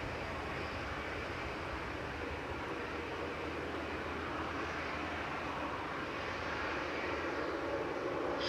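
A British Airways A320-200 shuttle from London Heathrow touches down at Manchester Airport, a steady broadband jet roar holding at moderate, fairly distant level for the whole stretch with no voices.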